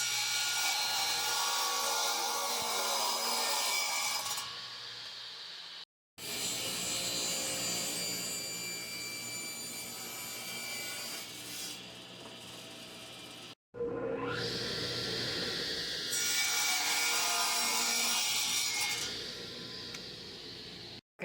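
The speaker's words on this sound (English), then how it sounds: "I'm going to take it over to the table saw and rip it 4 inches." A table saw rips a length of wood to four inches wide, its blade running with a loud, continuous whine and rough cutting noise in three long passes, each separated by a brief stop.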